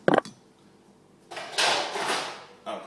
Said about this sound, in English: out comes the frying pan.